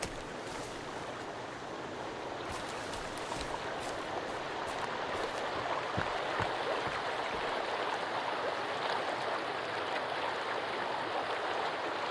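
River water flowing steadily in the Sons of the Forest VR survival horror game, a continuous broadband rushing wash with a few faint clicks, no talking.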